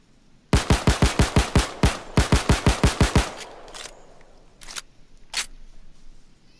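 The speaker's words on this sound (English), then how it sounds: "I wanna see how fast I can fire this thing." Rapid bursts of FN Five-seveN pistol fire in the Payday 2 video game, two quick strings of about eight loud, sharp shots each, followed by a few scattered clicks and one more isolated shot.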